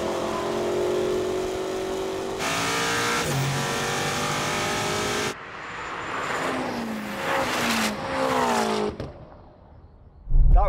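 Hard launch of a high-powered car, a 1,000 hp BMW M5 or a Ferrari SF90, with loud sustained engine roar and revving, then rising gear-change sweeps as it pulls away, a loud burst at the end.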